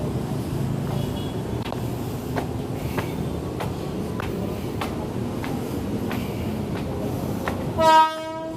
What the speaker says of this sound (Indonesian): Nah ini ada KRL lewat ya.